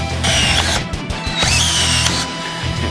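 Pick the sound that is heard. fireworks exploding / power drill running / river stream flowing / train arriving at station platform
power drill running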